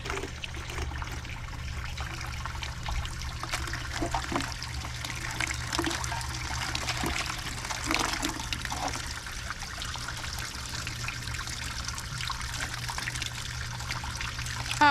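Cold tap water runs over a harvested Vicks plant as it is washed. A soft, steady trickle continues throughout with no talk over it.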